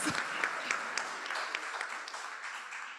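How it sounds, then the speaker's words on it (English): A round of applause from a panel audience at an African investment forum, a busy scatter of many hands clapping that is fairly loud at first and then slowly thins and softens over three seconds. "So I thought that's a round of applause."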